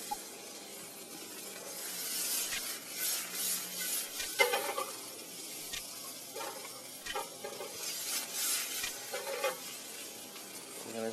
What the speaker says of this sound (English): We're going to go ahead and throw in our red onions.